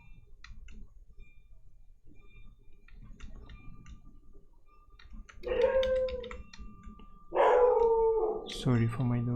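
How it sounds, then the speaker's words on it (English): A pet dog howls in long, rising wails and then lets out a few barks nearby, following a stretch of soft clicking and typing in a quiet room. "Sorry for my dog."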